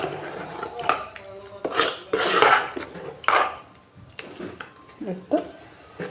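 A spoon scrapes and clanks in a bowl as chopped onion and green chilli are mixed into dosa batter. The strokes come in irregular, close bursts, with brief speech-like sounds in between.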